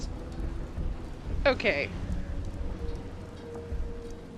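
Steady rain patters in the video game Dishonored: Death of the Outsider, a soft continuous wash of drops, with a brief spoken word partway through.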